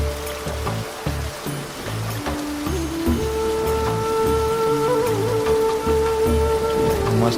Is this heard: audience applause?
no